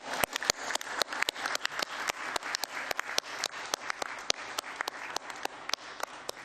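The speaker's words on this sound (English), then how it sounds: "Can we clap hands for him, please?" A small conference audience at a CAF general assembly claps steadily, individual sharp claps clearly audible in a brisk, even patter, fairly close, with no talking.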